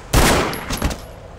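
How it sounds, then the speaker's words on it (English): A gunshot in The Sopranos Road to Respect on PS2: one loud, close crack that decays, then a smaller second report just under a second later. "I heard gunshots."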